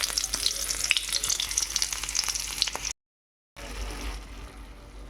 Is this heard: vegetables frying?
yes